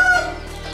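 Chickens and a rooster at a horse stable in West Sulawesi, Indonesia, a short burst of clucking and a crowing note at the start that fade into quieter farmyard clucks, close and fairly loud with no talk.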